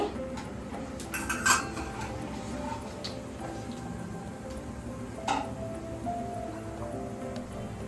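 Peanuts, cumin and mustard seeds dropped into oil in a kadhai, giving a soft crackle and sizzle with a few sharp clinks of a spoon against the metal.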